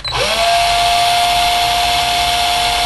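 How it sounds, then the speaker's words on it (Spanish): An electric drill whirs up quickly and then runs at a steady, loud high-pitched whine, nearby and alone. "ponemos el taladro en marcha"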